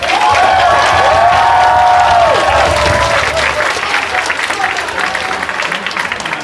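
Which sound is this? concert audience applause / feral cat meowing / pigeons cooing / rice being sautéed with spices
concert audience applause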